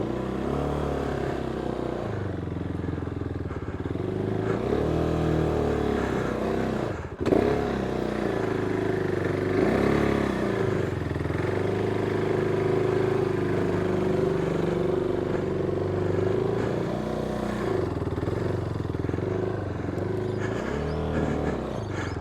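A KTM 390 Duke motorcycle engine runs steadily at low revs while pulling out of a driveway, a close, continuous single-cylinder drone with mild rises in pitch and a brief clunk partway through, no talking.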